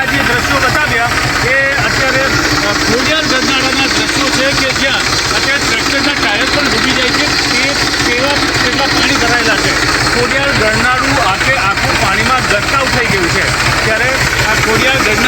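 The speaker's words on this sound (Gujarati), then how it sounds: "ટ્રેક્ટર એકમાત્ર વાહન છે કે જે આ વિસ્તારો સુધી પહોંચી શકે છે" A tractor engine chugs steadily as it drives through flooded monsoon streets in Nadiad, Gujarat, a continuous loud rumble with splashing water and voices talking over it throughout.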